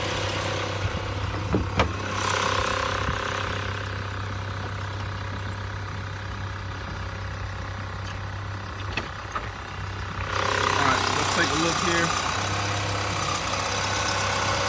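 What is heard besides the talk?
car engine idling at auction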